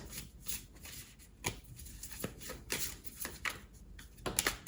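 Tarot cards being shuffled by hand during a reading, a string of crisp riffling bursts and soft slaps at an uneven rhythm, close and fairly quiet with no talking.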